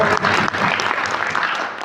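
Audience applause at a crowded indoor training session, dense and steady clapping from a room of about eighty seated people, sustained at close range with no talk.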